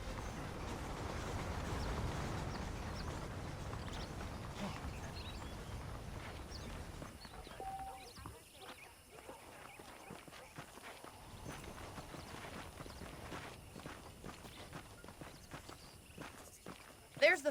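Horse hooves clip-clop at a steady walking rhythm in Red Dead Redemption, fairly close and moderately loud, mixed with ambient game sounds and a voice talking over the first stretch.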